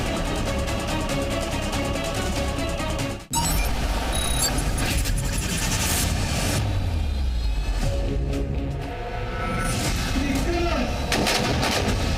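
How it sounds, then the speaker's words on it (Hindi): K9 Vajra self-propelled howitzer firing: one sharp artillery blast followed by sustained loud rumbling and engine-like roar of heavy military equipment nearby, no speech. "K9 वज्र सेल्फ प्रोपेल्ड हॉवित्जर तोप की नई खेप सेना को मिली"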